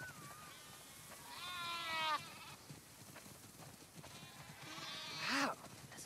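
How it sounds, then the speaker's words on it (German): Sheep bleating in The Last of Us Part 2, several wavering bleats from a flock at a barn, heard fairly close over quiet ambience with a brief voice in between. "Wow, das sind viele Schafe."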